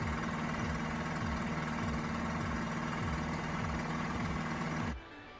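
A STIHL BR 800X backpack leaf blower runs steadily and loudly close by with a pulsing engine drone, then cuts off abruptly near the end.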